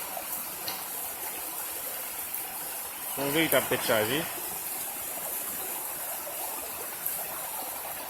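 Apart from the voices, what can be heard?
water flowing out onto the ground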